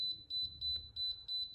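Bruno BZK-DJ01 nut milk maker answers its function button with a quick run of short, high electronic beeps in an even rhythm, clear over a low background hum.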